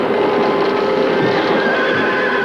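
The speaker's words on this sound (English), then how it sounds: "Get the horses out. Put them over in the horse way." Several horses neigh and whinny over hoof clip-clop as they are hurried out of a barn, a loud, steady, crowded mix with no voices heard.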